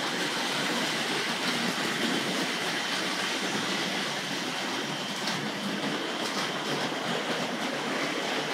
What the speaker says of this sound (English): I can hear the Kobo storming in from the left of shot here.